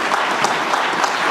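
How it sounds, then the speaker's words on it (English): An audience at a community development grants announcement applauding, dense steady clapping from many hands filling the room evenly and loudly throughout. "And another round of applause for all of our grantees."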